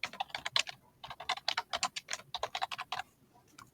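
Typing on a computer keyboard to rename a folder: a quick, close run of crisp key clicks in irregular bursts with brief pauses, and no voice.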